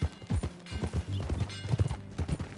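Horse hooves clip-clopping at an easy walking pace in Red Dead Redemption 2, a steady sequence of close, distinct thuds and clops that continues throughout, with no speech over it.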